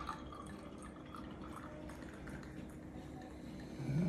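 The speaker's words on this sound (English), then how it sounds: "we're gonna come in with a little Prosecco over the top" Prosecco poured over a cocktail base in a glass, a steady fizzing, dripping liquid sound running throughout at close range and rising slightly louder toward the end, with no talking.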